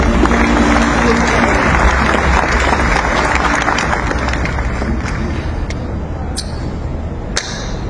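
Large conference audience at an energy and mobility event in Bangkok applauding loudly, thick continuous clapping with a low rumble, tapering slightly toward the end as a few sharp clicks stand out.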